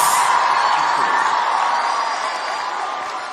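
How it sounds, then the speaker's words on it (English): Crowd applause and cheering after a dance by young Girl Guides wash over the scene, loud at first then gradually tapering, with scattered whoops mixed into the clapping. "Let us give them another round of applause."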